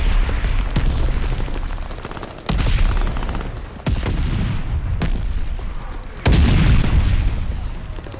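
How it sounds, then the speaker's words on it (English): Allied mortar fire in the Call of Duty: Vanguard video game, heavy booming impacts landing one after another, four or five loud blasts over a steady rumbling battlefield din. "Allied mortar fire inbound."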